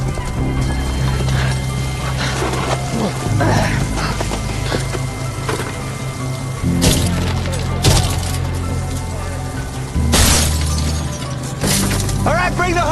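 A hammer's heavy blows crash against glass, with sharp shattering and cracking bursts over a busy, loud background of voices and commotion.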